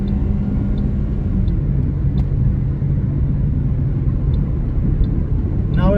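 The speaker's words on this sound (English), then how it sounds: "Now we're doing just about 110. Now you can hear the wind noise" Wind noise inside a Toyota Corolla cruising at about 110 is heard as a steady, loud low rumble and roar with a few faint high ticks, continuous throughout.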